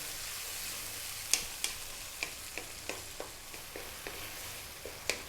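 A tomato and tuna sauce simmering in a pan over medium heat gives a quiet, steady low sizzle. Sharp, spaced clicks and taps of a spoon against the pan break through it from time to time.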